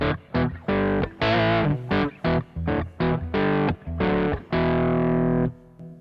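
Overdriven electric guitar tone from a Kemper Profiler on channel 1 with the bright cap up, playing a choppy riff of short stabbed chords ending on a held chord, loud and close, with no voices.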